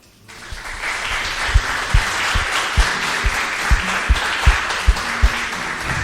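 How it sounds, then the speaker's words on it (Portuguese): Sustained applause from a church congregation during a service, a steady wash of clapping with low rhythmic thumps beating beneath it throughout. "Irmãos, o Senhor Jesus merece uma salva de palmas."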